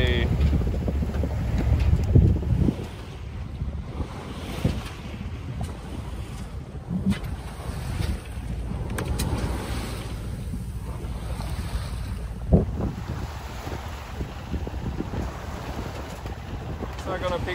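Sailboat under way at sea in the Bay of Biscay, with wind buffeting the microphone, water washing and splashing against the hull, and occasional thumps and knocks, loud and close, with voices speaking at times.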